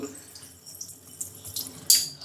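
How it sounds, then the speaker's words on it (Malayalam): The water jet of a piano-type kitchen sink glass washer spurts in a few brief, close hissing bursts against a quiet background, with the last spray the loudest. "ഇങ്ങനെ വെള്ളം വന്നിട്ട് ഫൂസായിട്ട് ഇതിനകത്തോട്ട് കയറിയിട്ട് ഗ്ലാസ്സൊക്കെ വാഷ് ചെയ്ത് കിട്ടും"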